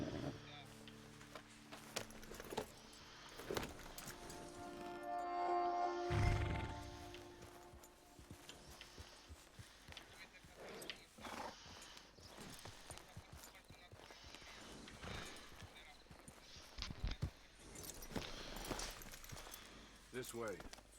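Horse hooves clip-clopping in Red Dead Redemption 2, with intermittent thumps and a few game sound effects, while people talk over much of it.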